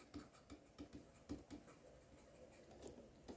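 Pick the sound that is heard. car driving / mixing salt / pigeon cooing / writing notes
writing notes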